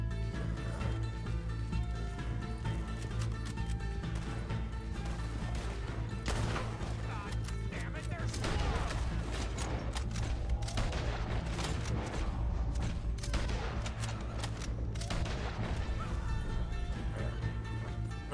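Repeated rifle shots ring out in a Red Dead Redemption 2 gunfight, sharp bursts scattered through a dense bed of game music and ambience, with a few heavier booms around the middle.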